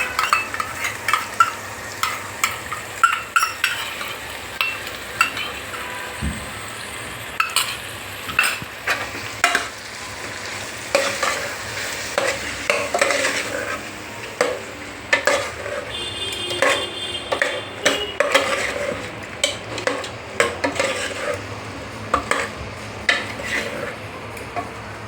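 A spiced yogurt mixture is stirred in a pressure cooker pot for veg biryani, with steady scraping and clinking strokes against the metal and a soft sizzle underneath, close and continuous.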